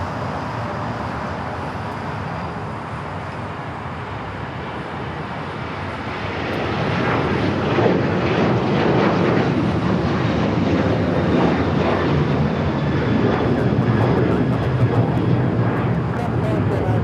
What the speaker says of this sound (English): Next takeoff is a flight heading to Vegas